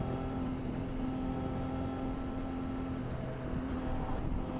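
A Triumph Tiger Sport 800 motorcycle engine drones loud and close under way, its steady pitch climbing only slightly as it pulls. No voices are heard.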